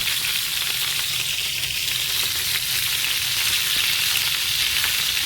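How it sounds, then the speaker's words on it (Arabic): Meat, with onion added after, fries in a pan and gives a steady, even sizzle that carries on loud and unbroken throughout, with no voices over it. "شفت التحمير يا حبايبي؟ حمرت اهي"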